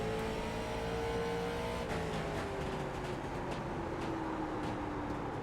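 A late model race car engine in iRacing at Martinsville, a steady drone whose pitch slides down and rises again as the throttle is worked, continuous with no talk.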